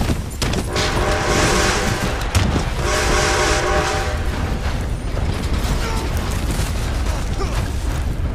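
Train rolling past in Apex Legends, a loud continuous rumble with clattering mechanical noise and a sustained horn-like tone swelling through the middle, passing close by.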